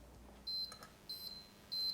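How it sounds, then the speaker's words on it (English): An oven timer beeps three times at a steady spaced rhythm, each tone short, high and electronic, fairly close by in a quiet kitchen. "I hear the timer going off"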